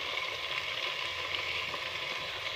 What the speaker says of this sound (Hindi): और 5 मिनट के लिए हम इसकी भुनाई करेंगे।